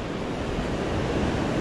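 Ocean waves wash steadily onto a beach in a constant, loud roar of surf, with wind buffeting the microphone and no voices.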